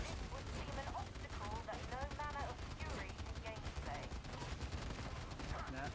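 Rapid gunfire from gunners in a video game, dense bursts of shots rattling continuously under a busy mix of game sound, with a voice talking over it.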